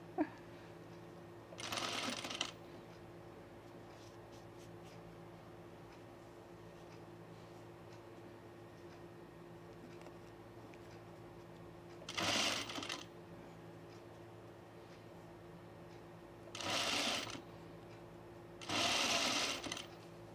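A serger sewing machine stitches fabric in four short separate bursts, each a quick bright whirring run lasting about a second, with long quiet stretches of low room hum between them.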